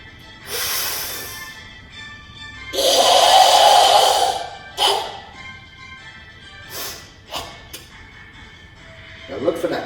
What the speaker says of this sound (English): If the breathing was added in, it would sound like this.